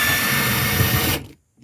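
A power drill driving screws into wood while building a bed frame in a pickup truck, a steady loud whirring motor that runs continuously and then cuts off abruptly into silence.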